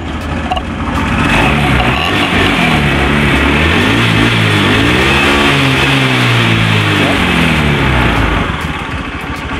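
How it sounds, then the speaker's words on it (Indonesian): Honda Spacy scooter engine idling and revving close up, a loud steady drone that rises and falls in pitch, with a noisy ticking clatter running throughout and no talk. "Tuh ya, suara mesinnya teman-teman."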